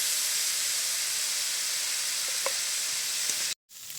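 Bottle gourd peel fries in a pan with salt and turmeric, giving a steady, loud, close sizzle and hiss that continues throughout, with a brief drop near the end.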